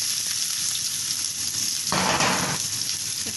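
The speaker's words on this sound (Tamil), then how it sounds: "எண்ணெய் கொஞ்சமாக ஊற்றி இப்போ நம்ம வெங்காயம் எல்லாத்தையும் அதிலே போட்டுறோம்." Onions frying in a little oil, a dense close hiss of sizzling that swells louder for a moment midway, then settles back, with no voice.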